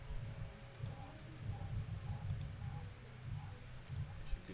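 A computer mouse clicks softly several times in a quiet room, brief sharp ticks spread across a few seconds over a low background murmur.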